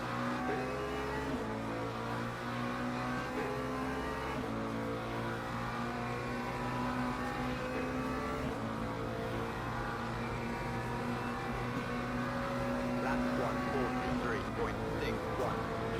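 A race car engine drones steadily through a Le Mans Ultimate endurance race, holding a sustained harmonic note as the car runs in another car's slipstream, with a commentator talking over it throughout.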